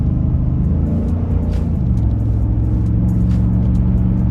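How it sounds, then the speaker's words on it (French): A 360 hp Ford F150 pickup accelerating, heard from inside as a loud, steady low engine rumble and drone that rises in pitch as the revs build. "Voilà, on va accélérer un peu."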